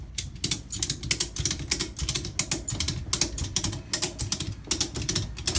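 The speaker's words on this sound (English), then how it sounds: "you just start ratcheting and lifting it up." Ratchet straps crank up a 400-pound Jeep JK hardtop, making rapid, crisp clicks in quick irregular bursts with brief pauses between strokes. The clicking is close and fairly quiet, and no one speaks.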